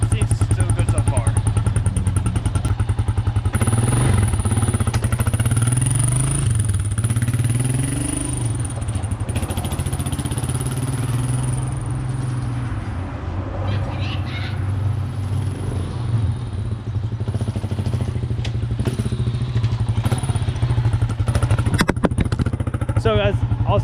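A quad bike with a newly fitted clutch runs steadily throughout while being ridden, its engine drone loud and continuous with occasional clattering thumps, and a person talks over it.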